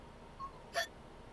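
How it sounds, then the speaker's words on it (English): A cat lets out a single small, faint hiccup, a brief soft squeak-like pop against a quiet, hushed background. "You watch baffled as the cat continues to hiccup, causing little bubbles to float out of its mouth."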